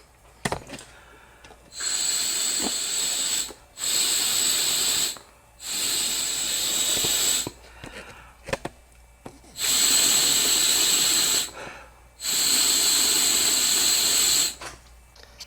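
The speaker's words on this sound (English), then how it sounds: "you can hear and feel the air coming out of the breather tube" Several bursts of breathy, hissing air blown through a tube, each lasting a second or two, separated by short pauses, close and fairly loud.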